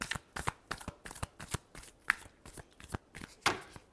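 Tarot cards are shuffled close up in a quick run of crisp riffling bursts and soft slaps, several strokes in a row with no talk.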